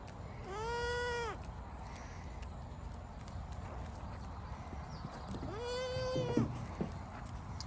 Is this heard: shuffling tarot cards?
no